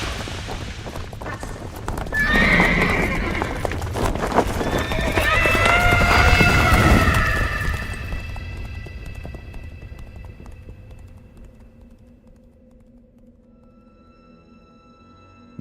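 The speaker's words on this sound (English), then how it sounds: "Slow down, please. You're spooking my horse." Radio-drama horse effects: a horse whinnies loudly with shrill, wavering neighs while hoofbeats drum underneath, then the sound fades to a quieter tail after about eight seconds.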